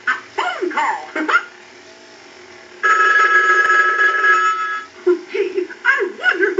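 An animated Mickey Mouse telephone from Pacific Bell rings during a repair test, a sustained electronic ring lasting about two seconds, set between bursts of a cartoon character voice speaking and laughing nearby.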